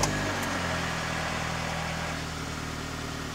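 A Ford Escape engine idles steadily with a low, even mid-pitched hum after a brief start at the very beginning, held at a constant moderate level throughout.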